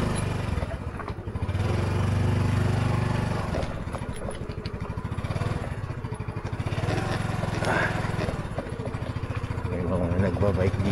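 A Honda Navi motorbike ridden on smooth paved road, its small engine putting along with a steady mid-pitched drone that rises and dips with throttle, wind rumble underneath and brief bits of talk over it.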